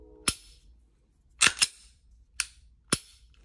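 Pistol dry-fired with no magazine after a striker replacement, a sharp metallic snap followed by a quick pair of clicks and then two more separate snaps, close and crisp in a quiet room.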